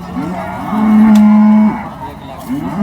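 A cow at a cattle market in Sangola gives a single loud, close moo lasting about a second, with fainter lowing and market murmur around it.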